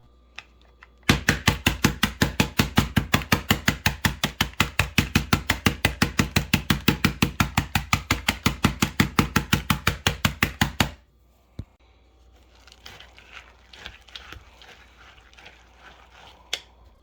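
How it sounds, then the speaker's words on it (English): Chocolate chip cookies being crushed inside a closed bag for a topping: a rapid, steady run of sharp crunching thumps for about ten seconds, loud and close, then a few scattered softer crackles. "I'm just going to close this up and just crush these guys down"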